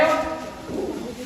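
A pigeon coos inside a well, one short, soft, hollow coo echoing in the enclosed space.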